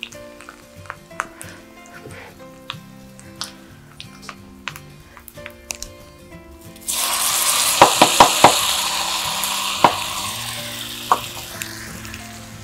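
A tempering of peanuts, sesame seeds, mustard seeds, cumin and dried red chillies bursts into loud sizzling in hot oil partway through, a sudden close hiss with a few sharp pops, after quieter kitchen clatter.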